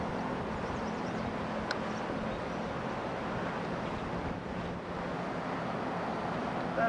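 Wind gusts steadily across an exposed railroad arena lot near parked truck trailers, a continuous broadband rush and microphone buffeting with no pauses, fairly loud and alone.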